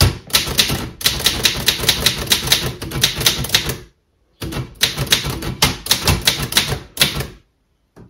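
Typing on a 1918 Wanderer Continental Standard typewriter: rapid, loud, close-up key strikes in two bursts separated by a brief pause, ending in near silence.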